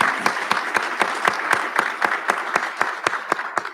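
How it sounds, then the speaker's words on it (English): Steady applause from a crowd, dense clapping with regular louder accents, continuous throughout and fairly close. "join me in thanking again Dr. Anker for her excellent words by giving her a rousing round of applause"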